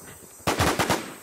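Rapid gunfire in a video game, a sudden close burst of four or five loud shots in quick succession after a quiet lead-in, with no talking.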